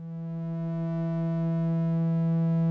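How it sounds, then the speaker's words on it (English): A steady detuned FM synth tone with rich harmonics, slowly swelling in level, with a gentle beating wobble from slight detuning, alone and close. "We can get kind of a nice beating thing going on"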